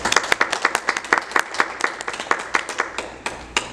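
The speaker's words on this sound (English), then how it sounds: "let's give Abby Sloan a round of applause" An audience at a school board meeting applauds steadily with close, sharp, evenly spaced claps that continue throughout before thinning slightly at the end.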